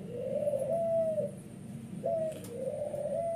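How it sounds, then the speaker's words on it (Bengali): A pair of magpie pigeons coos close by in soft, rolling calls, with one drawn-out coo followed by two more after a short pause. "এক জোড়া ম্যাকপে কবুতর ফুল ফ্রেশ"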